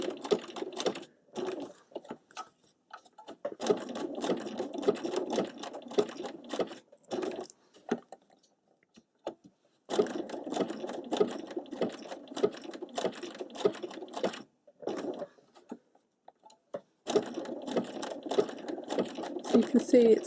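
A sewing machine runs a narrow satin stitch on fabric in repeated bursts of rapid needle chatter, separated by short pauses, close and moderately loud.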